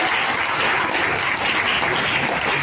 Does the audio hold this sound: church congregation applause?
yes